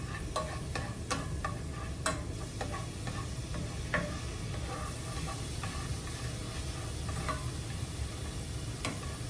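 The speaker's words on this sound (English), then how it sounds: "Starting to fry up, that's good." Food fries in a hot pan with a constant close sizzle and hiss, broken by occasional light clicks and taps of a utensil stirring against the pan, with no voices.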